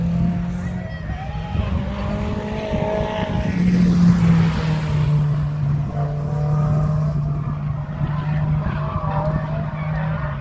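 BMW E46 drift car with an 800 horsepower JZ engine, running loud and steady near the pit lane at a circuit, with a sustained droning engine note and some tyre noise.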